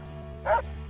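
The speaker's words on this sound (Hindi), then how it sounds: "2 बजे के करीब उसने किसी कुत्ते के भौंकने की आवाज सुनी।" Cartoon dog gives a single short bark at night over a low musical background.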